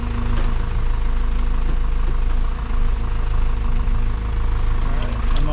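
An old Isuzu NPR turbo diesel truck, long abandoned, idles steadily after its first start, a continuous loud rumbling clatter with a faint knock running throughout.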